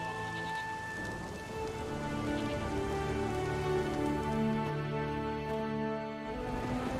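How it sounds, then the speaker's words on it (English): Steady rain falls in the video game The Witcher 3, a dense continuous patter with no talk over it, holding at an even level for the whole stretch. "There's no point standing here in the rain."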